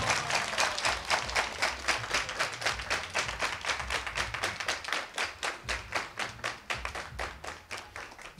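Audience applause at a youth computer training graduation ceremony, steady rhythmic clapping from many hands sustained throughout, fairly close and even in loudness.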